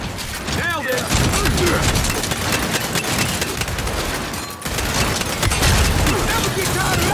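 Heavy gunfire from a Gears 5 Horde match on the Blood Drive map, loud and nearly continuous across the whole stretch, with overlapping bursts and impacts and voices talking over the combat.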